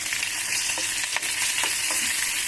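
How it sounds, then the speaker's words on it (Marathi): Green chillies sizzle in hot oil with mustard seeds in a tempering for dhokla, a steady bright crackle and hiss with a few faint stirring taps, no voices. "मिरची टाकू"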